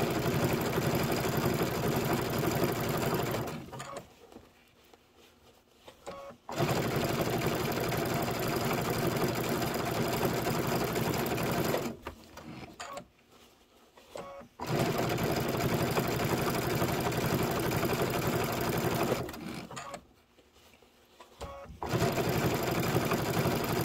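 A sewing machine stitches a quilt top in long, steady runs, stopping three times for brief pauses before resuming at the same even, close-up hum.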